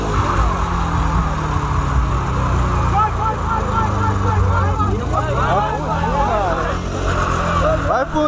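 Opel Corsa engine revving hard and steadily for several seconds, a loud sustained roar with rising and falling pitch sweeps, heavily mixed with excited voices and crowd chatter close by.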